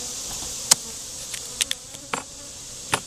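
Honeybees around an opened hive during an inspection after a split, a faint steady hum with several brief close buzzes as individual bees fly past, no voices.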